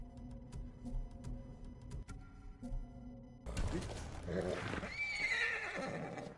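Quiet background with soft ticking, then a horse's whinny in the video game Ghost of Tsushima rises and wavers near the end, with breathy snorting around it.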